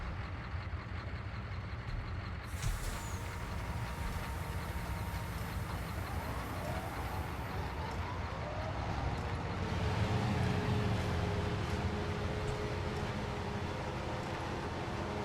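A truck engine idles steadily inside a farming simulator, a continuous low rumble that holds through the whole stretch and swells slightly near the end, with no voices over it.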